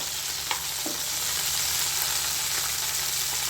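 A pan of ingredients for North Karnataka-style hasi kara chutney sizzles evenly and up close, with occasional faint clinks and scrapes of stirring over the continuous frying hiss.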